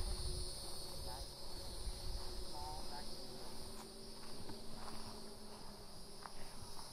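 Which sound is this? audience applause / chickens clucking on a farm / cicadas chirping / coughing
cicadas chirping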